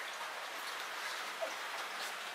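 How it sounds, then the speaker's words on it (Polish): Rain falling steadily outdoors, a soft continuous hiss of drops pattering on surfaces, even and moderately faint throughout with no voices. "No widzisz, że nie grzmi, tylko deszcz pada."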